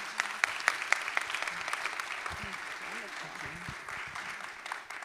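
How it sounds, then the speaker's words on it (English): Scattered forum audience clapping at a leadership event, fairly faint and distant, with a few sharper claps early on, then a steady patter that fades toward the end, with soft murmuring under it. "Can we have another round of applause?"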